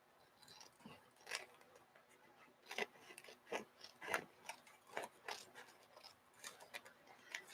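Quiet, intermittent snips and rasps of scissors cutting a page of a bulky art journal, irregular short strokes close by with soft rustling between them.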